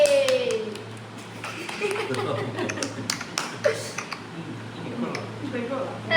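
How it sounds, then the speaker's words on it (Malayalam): People clap at a first wedding anniversary celebration, with scattered, uneven claps mixed with chuckles, laughter and voices talking. "എല്ലാരും ക്ലാപ്പ് ചെയ്യൂ ക്ലാപ്പ് ചെയ്യൂ ക്ലാപ്പ് ചെയ്യൂ"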